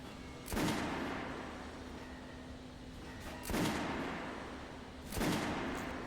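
Gunfire from a first-person shooter, Metro Last Light: three heavy shots or bursts land about three seconds apart over a steady low game backdrop, each with a sharp attack and a lingering rumbling tail.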